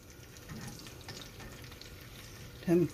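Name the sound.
food frying in an old cast iron skillet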